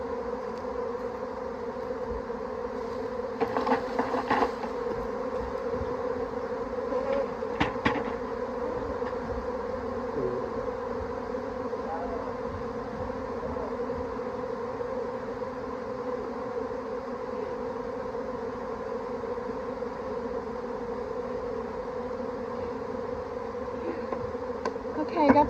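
Honey bee swarm buzzing steadily, a dense continuous drone of many bees close by, with faint bumps and brief rustles over the constant hum.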